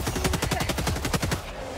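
Machine gun stratagem in Helldivers 2 firing a rapid, steady burst of about a dozen loud, close shots for nearly two seconds, then stopping abruptly.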